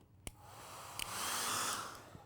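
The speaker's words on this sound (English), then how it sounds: "we're going to take the hair dryer and we're going to dry it a little bit" A couple of sharp clicks, then a hair dryer whooshes on to dry modeling clay, its airy roar swelling and holding close by before easing off.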